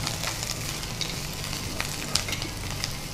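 Spices with fennel and mint sizzle and crackle in a pan for chicken green masala, a continuous close frying hiss dotted with small stirring clicks.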